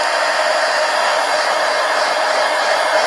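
A hair dryer blows a loud, unbroken whooshing drone close by as it dries paint on a mixed media art journal page.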